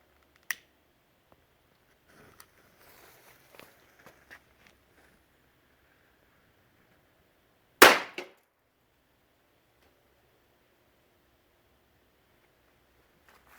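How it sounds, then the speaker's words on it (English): An M5000 firework goes off inside a folded glove as one loud, sharp, muffled bang, preceded by faint clicks and rustling in otherwise quiet surroundings. "Not an M80, just an M5000, which should be more explosive, right?"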